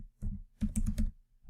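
Fast clicking keystrokes on a computer keyboard in two short close bursts, crisp and alone with no talking.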